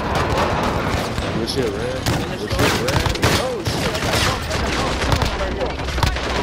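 Rapid bursts of video game gunfire crackle almost nonstop in a parking garage firefight, dense and loud, with a voice talking over the shooting.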